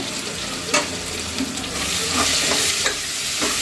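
Coriander and mint leaves sizzle in hot oil for chicken biryani, a steady frying hiss swelling louder partway through, with a few clear scraping knocks of stirring close by and no talk.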